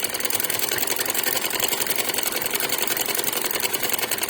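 A sewing machine runs steadily while stitching frock fabric, giving a fast, even mechanical whirr and clatter close by with no talk.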